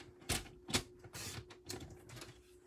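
Cardstock being cut with a paper trimmer while making a Stampin' Up! birthday card: several sharp, close slicing strokes in quick succession, spaced about half a second apart, with a faint steady hum underneath.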